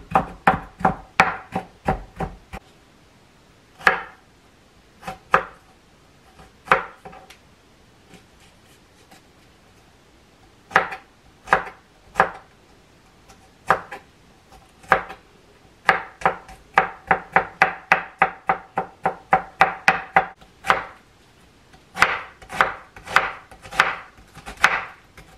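Knife finely chopping food on a board for carne ranchera with chimichurri sauce, crisp close taps in quick bursts and runs separated by short pauses.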